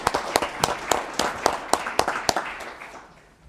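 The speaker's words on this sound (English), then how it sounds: "can I get a round of applause for our new council member" Applause rises from an audience at a city council meeting for the new council member and mayor pro tem, a run of sharp, fairly close claps that thins and fades out near the end.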